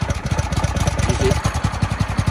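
A mini bike's small engine runs steadily after starting, with a close, rapid, even putter. People talk over it.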